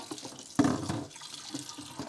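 Tap water running into a kitchen sink while dirty dishes and bowls are washed, a steady close splashing stream that swells briefly then continues at a low, even level.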